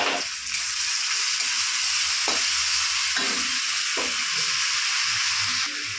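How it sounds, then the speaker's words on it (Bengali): Oil sizzles steadily as onions fry to red-brown in a hot pan while a utensil scrapes and stirs at intervals, close and fairly loud, with no talking. "পেঁয়াজটা এখন দেখো লাল লাল করে ভাজা হয়ে গেছে"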